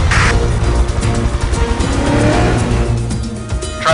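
A Mercedes-Benz car speeds hard during a pursuit, its engine roaring loud and close with a brief squeal as it races past.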